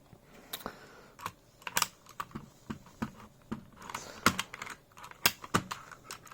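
Typing on a keyboard fitted with silent optical yellow switches: a quick, irregular run of soft, muted clicks and taps, close and fairly quiet, with no talking.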